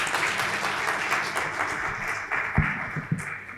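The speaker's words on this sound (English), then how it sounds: "We can have a round of applause for the speakers and the panelists." Conference audience at a summit applauding the speakers and panelists: dense, steady clapping from a crowd filling the room, with a couple of louder thumps near the end.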